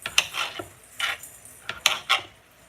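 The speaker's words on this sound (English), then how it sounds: "just chopping potatoes" Knife strikes on a cutting board while potatoes are chopped for a lentil kale stew, five or six sharp separate knocks in an irregular rhythm, close and alone.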